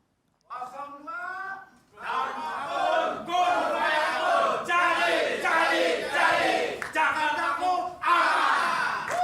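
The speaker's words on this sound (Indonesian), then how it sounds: "Saya ingin mendengar yel-yelnya dulu untuk, dalam tanda kutip ya, pasukan pendukung calon wakil gubernur nomor urut 2, Bung Kun Wardana." A crowd of supporters of a Jakarta vice-gubernatorial candidate chants and yells in loud rhythmic bursts, with a lead voice followed by group shouting that swells and pauses repeatedly.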